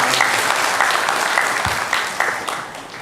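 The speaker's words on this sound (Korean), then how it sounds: "우리 영광의 박수를 우리 하나님께 올려드리겠습니다." A church congregation claps together during a Sunday morning worship service, a dense, steady burst of applause filling the sanctuary at close range for the whole stretch before tapering slightly at the end.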